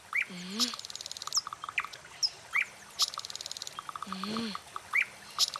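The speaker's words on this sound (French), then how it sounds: "Écoute le gazouillis des oiseaux." Several birds chirp and tweet in a forest in short repeated bursts, with brighter high calls and lower swooping whistles, set against a faint quiet background.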